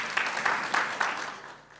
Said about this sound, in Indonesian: Yang setuju, mari tepuk tangan bagi Tuhan Yesus.